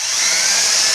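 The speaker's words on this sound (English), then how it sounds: "and then I drill the hole" Power drill boring a stop hole at the end of a crack in worn plastic during a plastic welding repair, a steady, loud, continuous high whine held at near-constant level for the whole second, with no talking.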